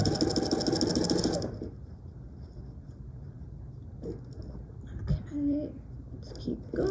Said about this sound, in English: I'm going to sew on that line that I drew, that diagonal line.